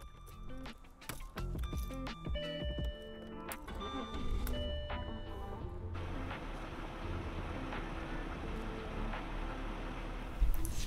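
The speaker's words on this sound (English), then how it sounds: "Before starting the jag, turn the key to the on position 3 times so fuel can flow back in the lines and check for leaks" A Jaguar XJ6 X300 after a fuel filter replacement: a run of mechanical clicks and whirs as the key is cycled, then the engine catches and settles into a steady, even running drone.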